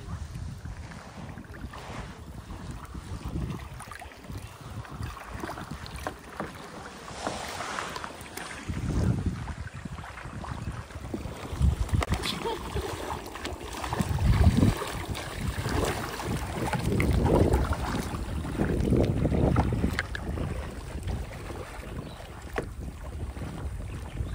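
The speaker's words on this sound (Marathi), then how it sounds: "त्या ओहोटीच्या पाण्यात देखील ही आपली कायाक चालते अगदी व्यवस्थितपणे." A kayak paddled through low-tide creek water at Malgund near Ganpatipule. Rhythmic paddle splashes and water swishes come and go, with steady wind rumbling across the microphone.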